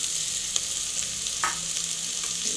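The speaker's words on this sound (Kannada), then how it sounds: "ಇದನ್ನೊಂದು ಹಸಿ ವಾಸನೆ ಆಗೋ ತಕ್ಕ ಒಂದು ಹತ್ತು ಸೆಕೆಂಡ್ ಫ್ರೈ ಮಾಡಬೇಕು" Browned onions with a spoonful of ginger garlic paste sizzle in a pan. The frying hiss is steady and fairly soft, with a brief spoon scrape midway and no talking.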